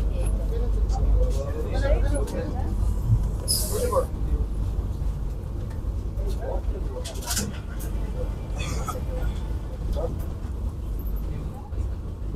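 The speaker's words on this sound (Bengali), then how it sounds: "আমাদের ট্রেন ছেড়ে দিল 5:55 হাওড়া থেকে এনজিপির উদ্দেশ্যে।" A Vande Bharat Express from Howrah to New Jalpaiguri rolls along, a steady low rumble heard from inside the coach, with occasional clatters and a person talking over it.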